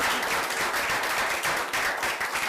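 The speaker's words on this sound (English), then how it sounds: "Yes, a round of applause." A round of applause from the audience at a Senate Small Business Committee field hearing in Berlin, as the session is adjourned; dense, steady clapping from a roomful of people fills the whole stretch without letting up.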